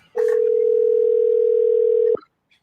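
A telephone call placed before a voicemail, heard as a single steady ringing tone that holds for about two seconds and then cuts off, loud and close, with faint murmurs at the start.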